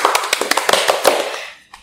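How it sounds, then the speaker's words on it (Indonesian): A quick burst of hand clapping, a small group applauding rapidly and close by, fading out after under two seconds. "Tepuk tangan dulu dong."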